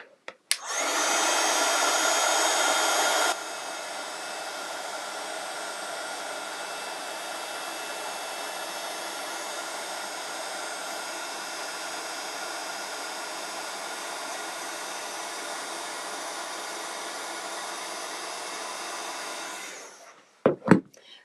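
A heat embossing tool blows steadily to melt clear gloss embossing powder on a die-cut card part, a loud airy whoosh that drops a little after a few seconds and runs on alone, cutting off near the end.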